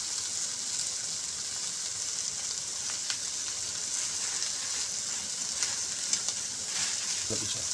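Cumin seeds hitting hot oil for Chinese-style rice, a steady bright sizzle that holds evenly for several seconds, with a few small pops and a faint clink near the end.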